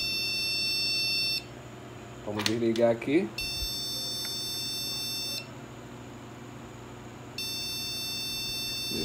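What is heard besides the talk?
motherboard beeping during power-on test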